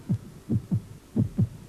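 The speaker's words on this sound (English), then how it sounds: "This is the beat of a human heart." A human heartbeat thumps in low, muffled paired beats, lub-dub pulses repeating about once every half second, close and alone over a faint background hum.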